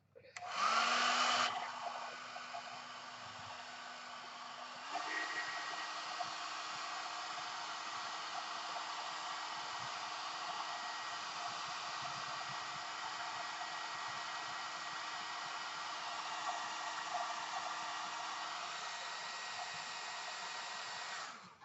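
A hair dryer blows steadily on paint over pebble art, switching to a slightly different setting after a few seconds, then running as a continuous close airy roar with no voices.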